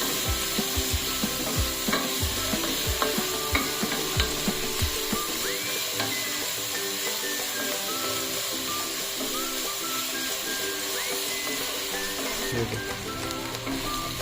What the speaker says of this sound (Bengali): বরবটিটা হালকা ভেজে গাজর কুচিটা দিয়ে দিতে হবে।